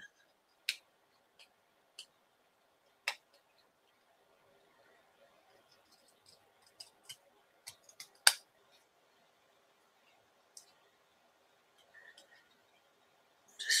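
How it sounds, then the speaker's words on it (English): Scissors trim around a stamped paper card, giving a run of close, quiet, irregular snips separated by silent gaps, ending with a slightly louder cut. "just trimming around it."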